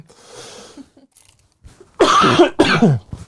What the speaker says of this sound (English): Excuse me, cough's still there.